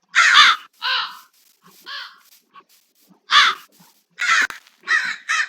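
Crows cawing in a Minecraft Create modpack game, a series of about seven loud, harsh caws in uneven bursts with short gaps, no talking over them.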